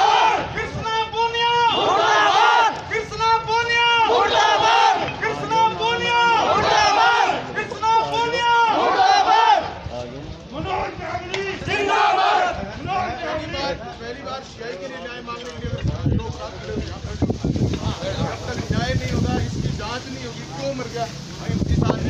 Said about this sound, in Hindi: भीड़ ने विधायक कृष्ण पूनिया के खिलाफ नारेबाजी की।